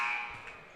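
An end-of-half buzzer sounds in a high school girls' basketball gym in Granite City: a loud, steady electronic tone held for under a second, fading slightly toward the end.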